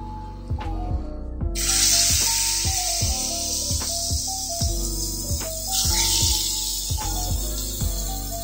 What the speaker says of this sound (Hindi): तब तक हम अपना मच्छी फ्राई कर लेंगे।